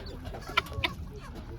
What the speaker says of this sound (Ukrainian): Досить така цікава птиця цесарки. Трошечки криклива